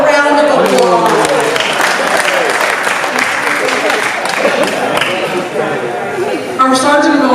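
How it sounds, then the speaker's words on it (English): An audience at a gathering breaks into a round of applause, loud clapping mixed with laughter, cheering and overlapping chatter, continuing steadily throughout. "Give yourself a round of applause"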